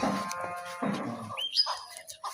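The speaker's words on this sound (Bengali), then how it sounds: "এই যে সার গরুটা বাইর করা হলো এটা আজকে সকালেই জবা করা হবে" A native bull being led out for slaughter at a beef market lows twice in quick, fairly close bellows, followed by faint bird chirps in the quiet background.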